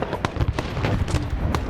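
Grenade blasts in Arma 3 SOG Prairie Fire during a Vietnam-era Operation Junction City mission, heard as several sharp, loud bangs in quick irregular succession over a dense, rumbling battlefield din.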